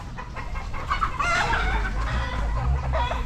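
SBR gamefowl roosters crow and cluck close by in a farm yard, several overlapping calls rising over a steady background hum with no talking.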